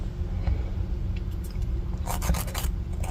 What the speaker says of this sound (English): only need a tiny bit of filing, which is nice